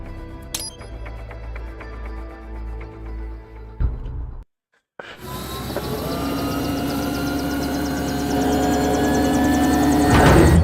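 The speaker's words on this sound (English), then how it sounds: "Helicopter." Helicopter in the video game Metal Gear Rising, a game-audio rotor and engine drone building steadily in loudness after a brief silent cut, with rising whine layered over a dense low rumble.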